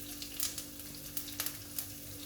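Coriander, chillies and other spices frying in a tablespoon of hot oil, a close, continuous sizzle and crackle with a few light stirring clicks over a low steady hum.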